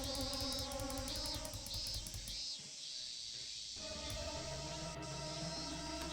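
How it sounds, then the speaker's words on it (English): Cicadas drone in a summer scene from the Higurashi video game, a dense, steady insect buzz with pulsing high chirps that holds throughout, loud and continuous with no talk over it. "I kind of wanted to turn down the sound of the cicadas"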